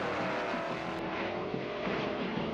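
A 1964 AA fuel dragster engine of about 1,400 horsepower at full throttle, a loud, steady, unbroken roar with no pause across the whole stretch.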